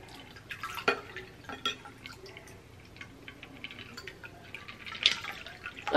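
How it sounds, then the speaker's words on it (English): A chilled drink is poured into a glass, giving soft splashing and dripping with small irregular clinks, quiet and close by, with no talking. "Nice and chilled, so I'm just gonna pour it on my glass."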